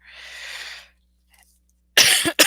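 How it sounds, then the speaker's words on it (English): A breathy exhalation, a pause, then a burst of two or three sharp, loud coughs close to the listener. "I've been coughing it like crazy since then"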